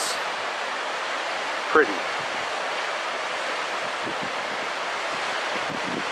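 Steady broadband roar of a waterfall heard from a steep shaded vista point above the river in the Pacific Northwest, constant and distant-sounding, with a brief spoken word partway through.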